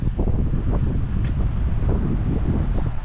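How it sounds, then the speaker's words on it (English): Strong wind roars and buffets the microphone in a constant low rumble on an overcast beach at Orange Beach, with a faint wash of surf underneath and no voices. "Another windy, overcast day."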